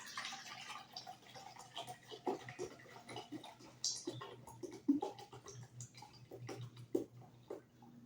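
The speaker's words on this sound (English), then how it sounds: "I'm going to open up the vinegar and then I'm going to pour right into it" Vinegar poured into the empty water tank of a Keurig coffee maker, a soft intermittent trickling and dripping with small knocks and ticks, faint and close by.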